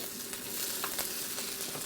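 Thai turnip cakes sear in a little oil in a pan that is not non-stick, giving a soft, even sizzle with a few faint taps, fairly quiet and close.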